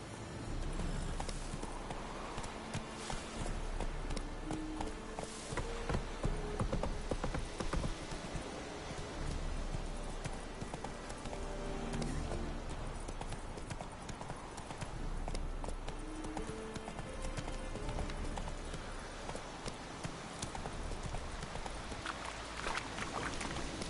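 Hooves of Roach, a horse in a PS4 video game, clip-clop in a steady rhythmic gait over a dense game soundtrack and ambience, continuous for the whole stretch.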